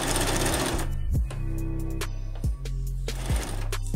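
Sewing machine stitching along the edge of a costume hood, loud rapid needle chatter in bursts broken by short pauses and clunks, close and without voices.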